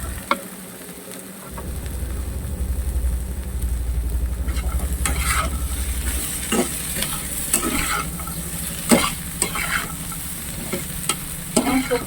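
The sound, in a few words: vegetables being stir-fried on high gas flame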